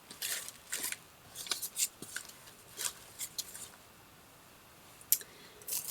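Scissors snip through coloured cellophane and tissue paper in a series of sharp, crisp cuts, some quick and clustered, others spaced apart, close up and alone with no talking.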